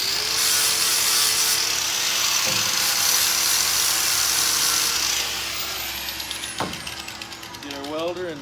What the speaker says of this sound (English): Now we just scuff us off a spot to hook our ground up.